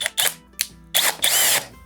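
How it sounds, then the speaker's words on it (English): Power drill threads a part in during table saw jig setup, with several short whirring bursts of the motor separated by brief pauses and a final longer run. "the drill is going to automatically tighten up anyway, so it's not going to get loose on it"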